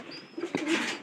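A pigeon kept in a home coop gives a single soft, brief coo close by, with faint background hiss.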